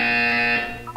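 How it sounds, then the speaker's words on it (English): A loud, harsh electronic buzzer sounds in the Portal 2 video game, a steady tone lasting about half a second before fading out. "When you hear the buzzer, look down at the floor."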